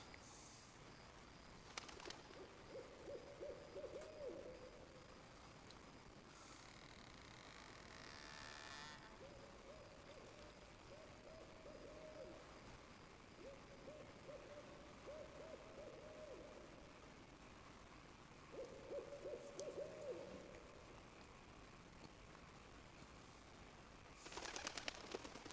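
Soft hooting bird calls from The Secret of Monkey Island video game repeat in short phrases every few seconds, faint and distant over a quiet steady ambient background.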